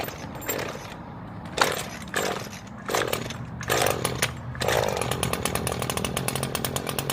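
A tuned-up Scag 48-inch V Ride II lawn mower engine is cranked over several times in short bursts, then catches and settles into a steady running idle, loud and close.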